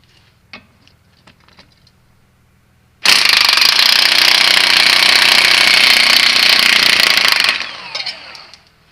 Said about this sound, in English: So we're going to try zapping it off with the impact.